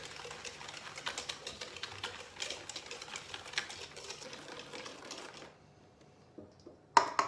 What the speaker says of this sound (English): So giving this a good whisk.